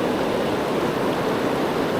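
Fast-flowing river current rushes through New Zealand pocket water in a loud, constant, broad wash of turbulent water close by.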